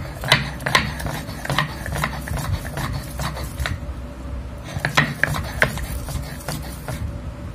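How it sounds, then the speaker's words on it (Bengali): Figs are ground on a stone grinding slab with a grinding stone, giving rough rhythmic scraping and rubbing strokes in uneven bursts, close by with no talking. "ডুমুরগুলোকে এখন শিলপাটায় বেটে নিব"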